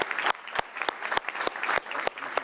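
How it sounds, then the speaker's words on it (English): Steady applause from a moderate crowd fills the whole stretch, dense clapping at even loudness. "one more big round of applause for wife Barbara and Katie and Hannah."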